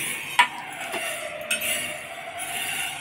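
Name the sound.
dry roasting black urad in a pan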